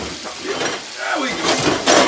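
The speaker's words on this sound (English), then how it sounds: "Let them fry." Pig feet deep-frying in a covered pot give a steady close sizzle and crackle with a few faint metallic clinks of cookware, rising a little louder toward the end.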